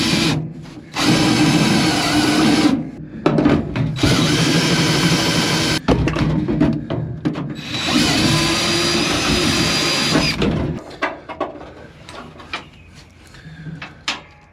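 A power drill bores a 1/2 inch hole in a 1949 Chevy truck, loud and close, running in long whining bursts with brief pauses, then tapering into scattered clicks and clanks.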